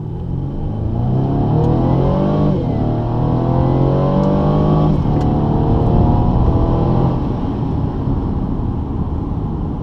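A 2017 Mercedes C300 Coupe in Sport Plus mode accelerates hard on automatic shifting, its engine note climbing loud and close through the gears with brief dips at each upshift and a steady road rumble beneath.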